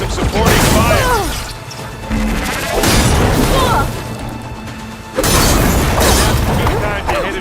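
Supporting gunfire and explosions erupt in the video game Horizon Forbidden West: loud booms, crashes and mechanical clatter arrive in three heavy waves, with whooshing effects between them.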